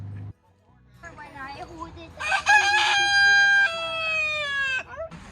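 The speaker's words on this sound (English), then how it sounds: "these wild chickens and roosters that just hang out downtown there." A rooster crows loudly and at length nearby, with wild chickens clucking around it and some outdoor background noise in a downtown street in Central California.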